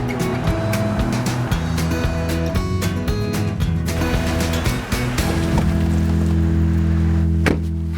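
A car passes through an automatic car wash, with loud continuous machinery drone and whirring brushes, water spraying and thumping against the body in a dense, steady wash of sound up close.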